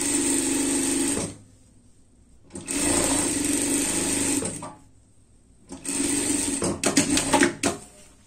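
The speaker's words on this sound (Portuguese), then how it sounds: "Costura de segurança aqui." A sewing machine runs a safety seam on an Easter dress in three loud, steady bursts of fast, whirring stitching, each cutting off sharply with short quiet pauses between, close by with no talking.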